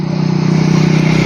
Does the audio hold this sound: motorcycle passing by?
yes